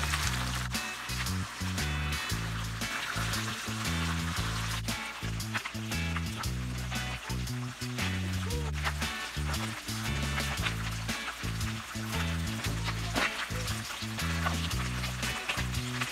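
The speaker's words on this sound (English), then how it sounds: "We want a crispy, nice, dry fried fish." Red snapper fries in hot oil for an escovitch dish, giving a steady, dense, close sizzle with crackling pops that runs unbroken throughout.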